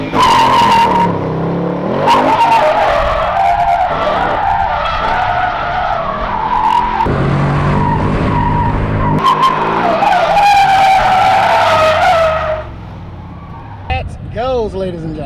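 A Ford Mustang RTR doing a burnout: sustained loud tire squeal and skidding over a roaring, revving engine for about twelve seconds, then the squeal stops and the engine drops to a lower rumble.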